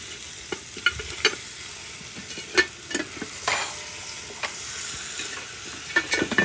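Bacon frying in a cast-iron skillet over a campfire gives a steady crackling sizzle, with scattered sharp pops and occasional scraping stirs, fairly close and with no voices.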